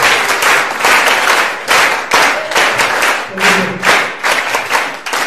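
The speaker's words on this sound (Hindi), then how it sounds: "एक बार जरा जोरदार ताली बजा दो" Audience of students in a seminar hall applauding, loud and close, in several bursts of clapping with short gaps between them.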